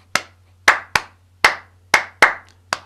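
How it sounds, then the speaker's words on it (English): Hands clap a swung rhythm during a D minor pentatonic warm-up, seven sharp, close claps in an uneven long-short pattern, alone over a faint low hum. "I thought we'd swing this rhythm rather than just clap it straight."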